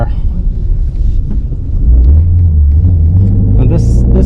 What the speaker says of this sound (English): when you get high into the revs, and that's what this engine is made for, you just listen to that low end grunt